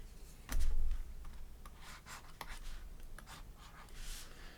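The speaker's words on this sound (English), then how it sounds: "Let me write that a little bit better." Pen or marker writing by hand on paper or a board, a few short scratchy strokes with small taps, close and quiet, with no talking.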